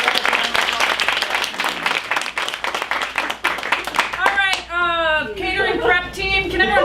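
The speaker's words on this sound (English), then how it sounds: "Let's give Julie a round of applause" An audience breaks into a round of applause, dense clapping for about four seconds before it thins out and voices and laughter take over near the end.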